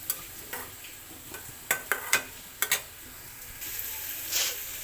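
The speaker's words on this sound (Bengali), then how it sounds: "দেখুন আমার করলাটা আমি নেড়ে ছেড়ে মিশিয়ে নিচ্ছি" Bitter gourd frying in a pan and being stirred, a low sizzle broken by a handful of sharp spatula scrapes and clicks, louder hissing toward the end, no talk.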